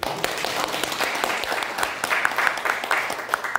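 Sustained applause from a lecture audience in a museum fills the room, a steady wash of many hands clapping at moderate volume.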